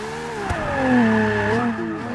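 Ferrari LaFerrari hypercar engine in the racing game Forza Motorsport 6, a loud, close engine note that rises, holds and eases off as the throttle is lifted, with no one speaking.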